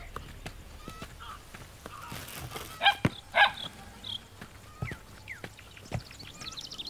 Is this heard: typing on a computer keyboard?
no